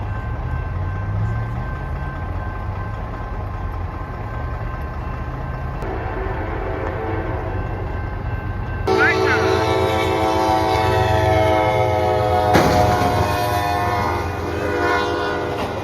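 A train passing, its loud horn blowing in long sustained blasts over a heavy rolling rumble that swells partway through and stays close and loud to the end.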